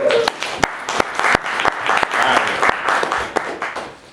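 A crowd claps for Brother Jeff at a community event for family leaders in Five Points. The applause is sustained and fairly loud, with crisp individual claps cutting through the steady clatter throughout.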